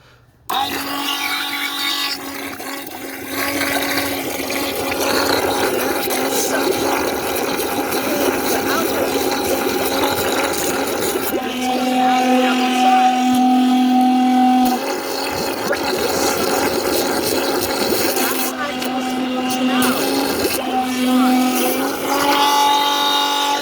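A small electric pump, wired in reverse, runs with a continuous buzzing whine and mechanical hum, its pitch and load shifting slightly partway through, loud and close throughout.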